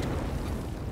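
A grenade blast in the military video game Arma 3 rolls out as one dense, rumbling boom that fills the brief moment with no voices over it.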